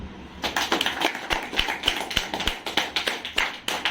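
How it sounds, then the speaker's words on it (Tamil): A group at a team meeting breaks into applause: a dense, steady run of overlapping hand claps lasting about four seconds, fairly close and without pauses. "கைத்தட்டு"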